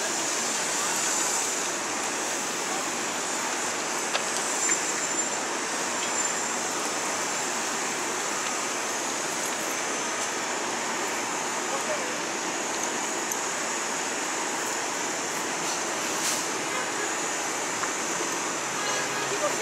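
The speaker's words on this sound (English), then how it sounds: "This is the train to Hempstead." A steady, loud rumbling roar of an LIRR M-9 commuter train passing through Queens Village station, continuous and broad with a faint squeal near the end.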